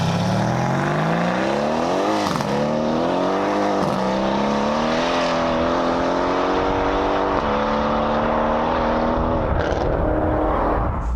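A 700 hp Mercedes C63S coupe with its exhaust valves open revs loudly and continuously up close, its engine note repeatedly climbing and dipping through sustained blips, with no voices.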